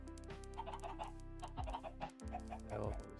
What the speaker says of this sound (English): I don't remember chickens ever making that sort of creaky clacking noise.